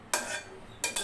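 A spoon stirring curry into oil in a cooking pan, a few brief scraping strokes and clinks close up, with no voices.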